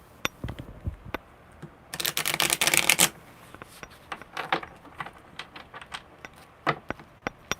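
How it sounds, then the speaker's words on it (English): Rapid riffling of tarot cards in a dense one-second burst, surrounded by scattered light clicks and taps of cards being handled close by. "Okay, one more good shuffle."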